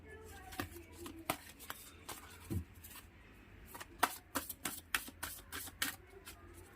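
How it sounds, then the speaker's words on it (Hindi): A deck of playing cards is shuffled and flipped, giving irregular sharp snaps and soft riffles that come faster toward the end, quiet and close, with no voices. "कार्ड्स फ्लॉप आउट हो गए हैं"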